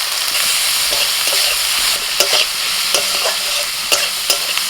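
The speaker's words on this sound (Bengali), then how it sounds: "বেশ কিছুক্ষণ নাড়াচাড়া করে নিয়ে" Ground spices with chillies, ginger and garlic stir and fry in a pan for egg dopeyaja, a steady close sizzle with scraping spatula strokes and small clatters throughout, no voices.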